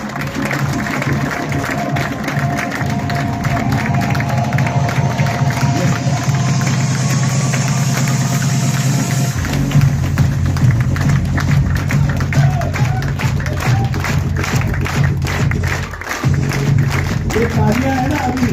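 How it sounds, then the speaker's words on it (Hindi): Applause at an on-stage welcome for Dr. Vinay Hiwari, a dense steady roar of hands and crowd noise over a low humming backdrop, lasting throughout with voices mixed in. "तालियां है ना"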